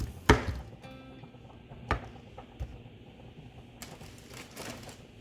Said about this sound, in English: Make sure you cut up your pepper small